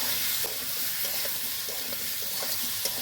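Mixed vegetables frying in a pan while being stirred, a close, even sizzle with soft repeated scraping and turning sounds throughout.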